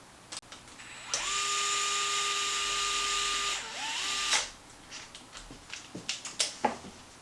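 A small screw is run into an aluminum steering knuckle on a Traxxas Maxx RC truck, heard as a high, steady power-driver whine that lasts about three seconds and then drops away into scattered light clicks and handling noises.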